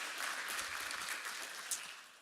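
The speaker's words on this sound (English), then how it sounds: "Let's give him a round of applause." Brief applause from a conference audience at a DevOps event, soft scattered clapping that fades within a couple of seconds.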